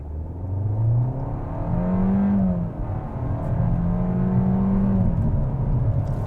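A 2021 Kia K5 GT-Line AWD sedan with a 1.6-liter turbo four-cylinder accelerating hard without launch control, engine note climbing steadily through gear changes with brief dips between shifts, heard from inside the cabin.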